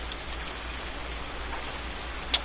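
Steady rain falls in Farming Simulator 19, a soft, even hiss of drops that carries on alone with no talk over it, and a single brighter tick sounds near the end.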